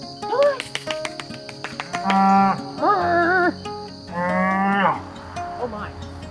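Several cows on a farm moo in a series of loud, drawn-out bellows, overlapping and close by, with brief gaps and some outdoor background noise between calls.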